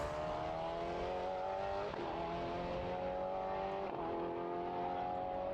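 A V8 prototype race car engine at Portimao circuit drones steadily at high revs, a continuous buzzing engine note with brief shifts in pitch, fairly distant and unbroken throughout.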